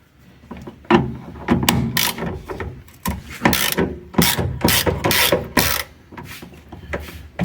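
A ratchet wrench loosens the 17mm seat belt bolt on an Alfa Romeo 33 1.7 16V during a teardown, with loud, close bursts of rapid clicking separated by short pauses.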